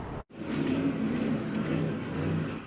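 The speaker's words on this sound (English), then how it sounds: "I saw cars doing donuts in the intersection" Cars revving at a street car meet in South Philadelphia, with drivers doing donuts in an intersection; a steady, loud engine roar with rising and falling revs fills the clip after a brief silent gap at the start.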